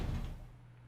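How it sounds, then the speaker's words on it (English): Heavy metal doors grind shut in the Zero Escape video game, heard as a deep, loud rumble that settles into a low, steady hum. "the warehouse was filled with the groan and clang of metal doors grinding"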